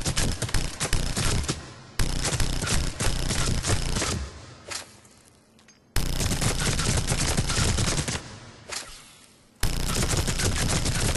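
A Hurricane submachine gun fires full auto in Mass Effect 3, with loud, close rapid-fire bursts several seconds long, each trailing into a short decay before the next sustained burst starts abruptly.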